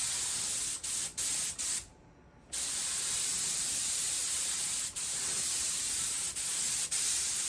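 Steady airbrush hiss of spraying air on a 1:350 scale USS Enterprise model kit, continuous and close, broken by a few brief trigger releases and one longer pause near the two-second mark.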